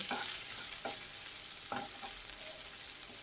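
Tomatoes cooked down soft in a pan for paneer bhurji are stirred with a spoon, giving a few distinct scraping strokes over a steady close sizzle, with no voices.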